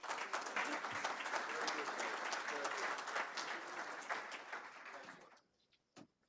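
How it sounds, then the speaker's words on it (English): Audience applause after a military logistics panel at the Army Force Projection & Sustainment Hot Topic 2016 event: steady, dense clapping for about five seconds, then fading quickly, with a few stray claps at the end. "please join me in a round of applause"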